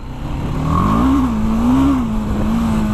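A BMW G310 GS single-cylinder motorcycle pulls away, its engine tone rising and falling steadily as it accelerates off on an riding-school track, close and loud with no voices.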